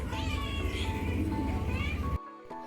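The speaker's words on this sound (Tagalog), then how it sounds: "magpakain lang ako ng pusa na kanina pa iyak ng iyak si bebe" A hungry cat cries for food with loud, drawn-out meows close by, continuous for about two seconds before cutting off into near quiet.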